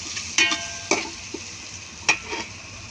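Onion, tomato and garlic sauté in a pan with a soft sizzle, punctuated by a few sharp scrapes and clinks of a utensil stirring, close and fairly quiet.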